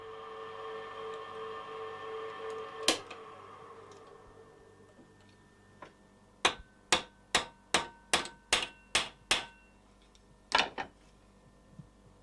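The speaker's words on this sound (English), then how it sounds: "This often means hundreds and sometimes thousands of holes drilled and riveted" Hammer blows riveting a model steam locomotive ring out sharp and metallic, first as a single strike and then as a steady run of about eight evenly spaced taps, followed by a final pair, with no talk.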